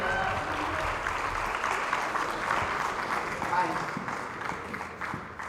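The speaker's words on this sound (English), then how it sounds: "Let's give another round of applause for Momina, please" Audience applause at a charity organization's annual gala, a steady, moderately distant clapping that tapers slightly toward the end, with talk mixed in.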